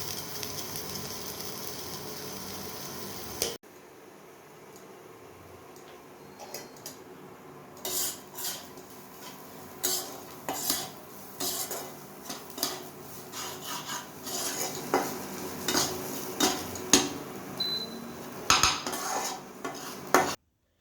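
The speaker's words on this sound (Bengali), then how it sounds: "এখানে আমি অরিগ্যানো, চিলি ফ্লেক্স আর লবণ দিয়ে এটাকে ভালোভাবে ভেজে নেব" A spatula stirs and scrapes in a pan as lasagna filling fries with oregano, chili flakes and salt, giving soft, irregular scraping and clinking that grows louder and busier toward the end after a quiet start.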